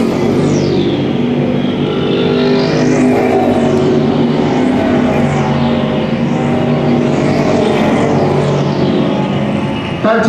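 Street stock race cars roaring around a raceway, loud engines droning continuously with repeated rising-and-falling sweeps as cars pass close by in quick succession.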